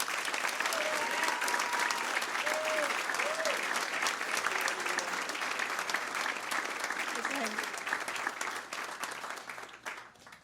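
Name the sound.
audience applause for the Woman of the Year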